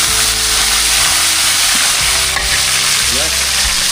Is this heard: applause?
no